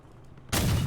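Vehicle guns firing in the Crossout combat game, a truck build shooting at range: quiet low rumble, then a sudden loud, dense burst of gunfire starting midway and sustained to the end.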